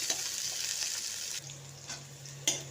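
Finely chopped vegetables sizzle and hiss in a hot pan, a steady frying crackle with a few clicks of stirring and a faint low hum.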